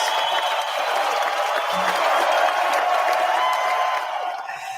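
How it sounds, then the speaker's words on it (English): A studio audience gives a sustained round of applause for a podcast guest, a dense steady wash of clapping that holds for several seconds and then fades slightly. "Please give her a big round of applause."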